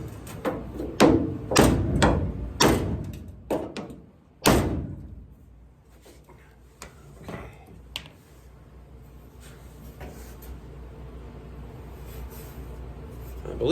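A Firebird car door being kicked and slammed shut during restoration door adjustment, several sharp loud thumps early on, then quieter handling noises and a low background hum.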